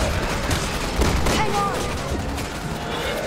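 Gunfire from zombies in Resident Evil 6, scattered shots and booms within dense, busy game noise, with a voice talking over it.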